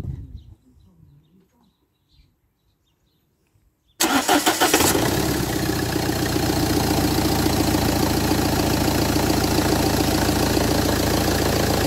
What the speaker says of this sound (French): vous voyez que le moteur tourne bien